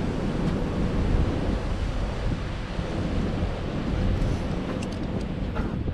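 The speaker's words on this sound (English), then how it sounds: "And here's the waterfall." A waterfall in Doubtful Sound, New Zealand, heard as a steady broadband rush of falling water mixed with wind buffeting the microphone, constant and fairly distant, with no voices.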